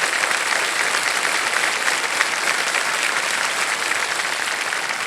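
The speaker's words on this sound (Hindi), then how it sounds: "तालियां बज जाएं इनके लिए।" Loud, even studio audience applause on the quiz show Kaun Banega Crorepati, dense continuous clapping from a large crowd sustained throughout with no talk over it.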